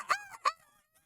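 A human voice imitates a rooster crowing, giving two short, bright, honking calls close by, the second a little after the first, then quiet.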